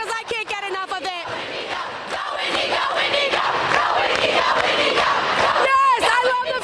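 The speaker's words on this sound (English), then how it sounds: "let's hear this crowd because I can't get enough of it" Large high school pep rally crowd cheering and screaming loudly throughout, with yelps and whoops rising over a sustained roar, a few shrill shouts standing out near the start and end.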